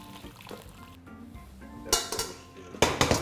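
Gelatin-rich broth for kholodets being strained, with metal pots and utensils clinking and knocking near and loud in short bursts, two clusters of sharp clatter after a quieter stretch.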